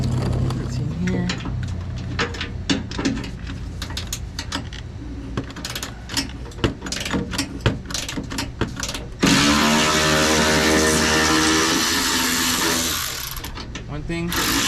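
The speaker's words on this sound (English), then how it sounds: "One thing I absolutely love, man, is having power tools. Makes jobs so much easier." A power tool spins a 13 mm fastener during an amplifier install in a Ford F150: a run of sharp ratcheting clicks, then a loud, steady whirring burst of several seconds, with a voice speaking around it.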